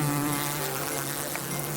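A massive swarm of bees makes a loud, continuous droning buzz with steady pitched hums, close and filling the whole stretch without any talk.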